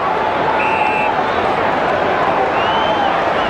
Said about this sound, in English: Look at the crowd rise, Robbo. They just jump as one, don't they?